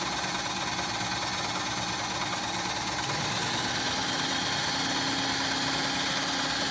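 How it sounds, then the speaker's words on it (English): Manual milling machine spindle spinning in a precision machining shop, a steady close mechanical whir and hum with a constant vibrating tone and no talk. "when you're adjusting the RPM on the manual mill, you wanna do that with the spindle spinning."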